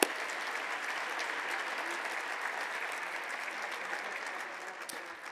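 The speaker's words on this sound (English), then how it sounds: "Let's give a round of applause." A lunch keynote audience gives sustained applause for award winners, a continuous, even wash of many hands clapping at moderate distance that slowly tapers off near the end.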